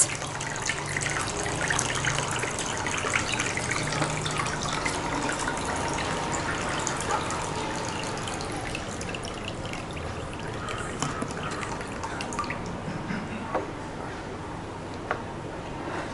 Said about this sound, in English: did you see the difference when the water came out from the bottommost hole and the center hole?